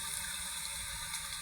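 A creek running through a rural barangay gives a steady close rush of flowing water, a continuous broadband wash with no pauses and no voices.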